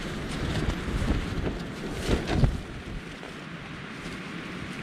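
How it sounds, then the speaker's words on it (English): Strong, relentless wind from tropical storm Zeta batters a tent at night at about 6000 feet on a mountain trail, a steady broadband roar with gusts swelling and fading, close and continuous with no talk. "It's wind. It's been relentless."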